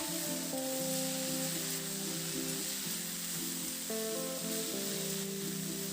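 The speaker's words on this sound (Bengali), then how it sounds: "এবার নাড়াচাড়া করে শাকটাকে সবজির সঙ্গে খুব ভালো করে একটু মিশিয়ে দেবো" Bethua saag stirred with vegetables in a hot pan, a steady soft sizzle of frying throughout with faint stirring under it, fairly quiet and continuous, while a tonal hum or music sits low beneath, no talk.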